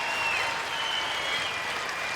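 Curling crowd in an Edmonton arena applauding Canada's win over China at the men's world championship, a steady, even wash of applause from many hands, moderately distant and sustained throughout.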